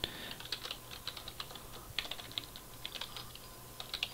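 Someone types a name on a computer keyboard, a quick irregular run of light clicking keystrokes, close but quiet, with no voices.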